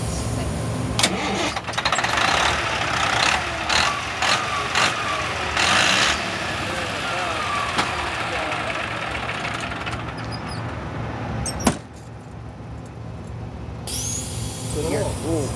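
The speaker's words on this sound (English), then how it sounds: "The engine is about to get started." A Detroit Diesel Series 60 engine in a Freightliner truck cranks and fires up, then settles into a steady, rumbling idle nearby with a few knocks.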